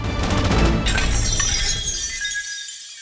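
A mirror shatters across an alleyway as a sound effect in a Call of Cthulhu tabletop game: a loud crash of breaking glass, then tinkling shards that fade over about three seconds.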